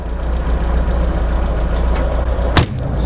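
A 1976 BMW 2002, just restarted after sitting abandoned, idles with a steady low rumbling engine note, close and continuous, with a brief sharp click or knock near the end.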